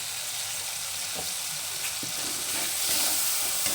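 A tomato mixture with salt and turmeric fries in oil for a vegetarian dal, giving a steady, dense sizzle throughout with faint stirring knocks underneath and no voices.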